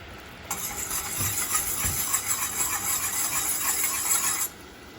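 Honey and baking soda being whisked in a bowl for Latvian Christmas peppercookies (piparkukas): a steady, bright scraping swirl that runs for about four seconds at close range, then stops abruptly.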